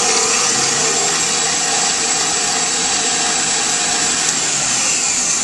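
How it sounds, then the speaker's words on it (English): A kitchen mixer whipping heavy cream for cannoli filling runs as a loud, steady motor whine with a constant broadband hiss, unbroken from start to finish and close to the microphone. "I started whipping in the kitchen mixer and it just wasn't doing its thing"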